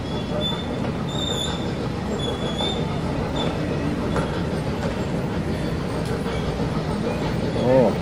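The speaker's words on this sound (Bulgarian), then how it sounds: "влакът пристига." A small tourist train arrives along the rails at Montreal's Old Port, a steady rumbling roll with a faint squeal near the end, heard without talk over the noise.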